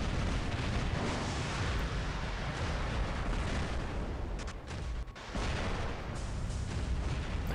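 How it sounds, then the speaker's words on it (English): A robot fires Aphid and Orkan missiles in the War Robots video game, making a continuous, loud barrage of booming blasts and rumbling explosions with hardly a pause. "let's keep firing aphids on top"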